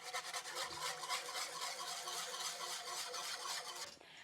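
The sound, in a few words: whisking milk sauce in a pan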